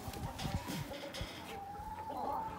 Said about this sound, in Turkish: Şu tavuğumun adı Dap Dap